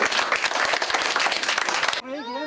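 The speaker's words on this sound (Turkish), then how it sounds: "Bir alkış derim hep beraber, kendiniz bir alkış derim." A group of students applauds together during a traffic safety lesson, dense steady clapping lasting about two seconds before cutting off into a single voice speaking.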